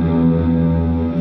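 A guitar run through an effects pedal with reverb, shimmer and modulation rings out as a sustained, dense, wavering chord with a washy tail, alone without speech.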